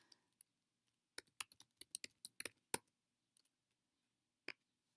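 Someone types on a computer keyboard, producing quiet, close keystroke clicks in irregular bursts with short pauses between them and a few isolated taps near the end. No one speaks.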